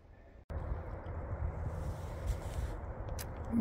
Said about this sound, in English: that interstate is noisy